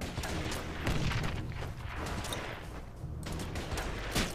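Units fire in the Order of Battle strategy game, rolling bursts of battle gunfire and distant booms over a steady background din.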